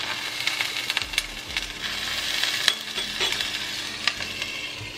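Water splashed into a hot frying pan of soufflé pancakes hisses with a steady close sizzle, broken by scattered clinks and brief louder crackles, with no voices.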